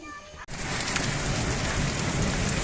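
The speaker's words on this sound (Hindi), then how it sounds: "बहुत तेज़ बारिश आ रही है जी।" Heavy torrential rain pours down loud and steady from just after a brief quiet opening, a dense unbroken roar with thunderstorm rumble mixed in, no voices over it.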